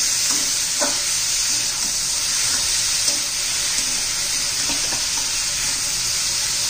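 Bitter gourd pieces being stirred in a frying pan, a steady oil sizzle with scattered scraping and clinking of the spatula against the pan throughout, close and continuous.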